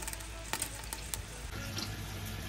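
Veal shoulder cooks with a knob of butter and two onions, giving a quiet, steady frying hiss broken by a few soft clicks and pops.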